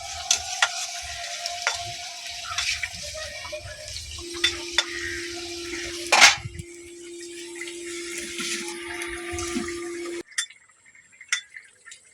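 Katla fish sizzles as it goes into a pan of simmering potato and okra curry, a steady frying hiss with stirring, clinks of utensils and a sharp burst midway, then quieter clatter.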